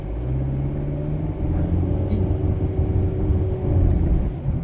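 Steady engine hum and road rumble inside a running car, constant and fairly loud with no talking.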